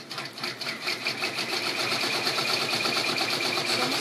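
An embroidery sewing machine satin stitches an applique, giving a close, continuous rapid buzzing hum with a fast steady pulse throughout.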